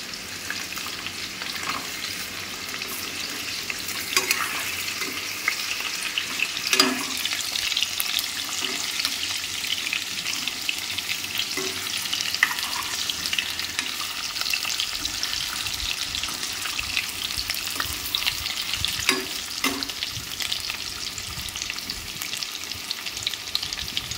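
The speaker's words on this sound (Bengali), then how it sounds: "আর এই যে আলুগুলো ভেজে নিচ্ছি, আলুগুলো সেদ্ধ করা, তাড়াতাড়ি ভাজা হয়ে যাবে।" Boiled potatoes fry in oil for a vegetarian biryani with a continuous crackling sizzle, close and steady, with occasional clinks of a utensil.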